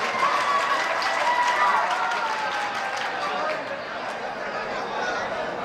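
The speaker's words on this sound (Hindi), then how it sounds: "एक बार जोरदार तालियां बजा के मुझे इजाजत दे दो।" A crowd applauds at a mushaira poetry gathering in Mangrool Pir: dense, steady clapping that holds at an even level for about six seconds.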